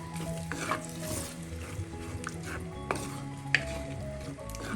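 Chempalli (big eye snapper) fish curry stirred in a pan after soaked kudampuli goes in, a bubbling sizzle under repeated spoon scrapes and faint clinks of utensils against the pot.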